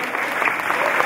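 A congregation claps together at a funeral home-going service, a dense, fairly loud burst of applause lasting about a second.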